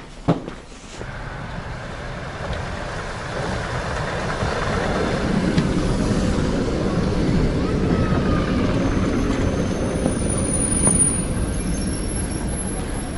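Steady rumble and rattle of an off-peak electric commuter train underway near Borshchahivka, Kyiv, a continuous low drone from start to finish, with faint background chatter.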